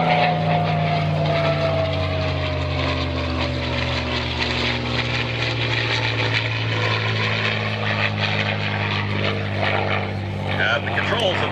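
A P-51D Mustang piston-engine propeller fighter flies past, its steady loud engine drone and falling pitch filling the whole stretch as it passes and recedes.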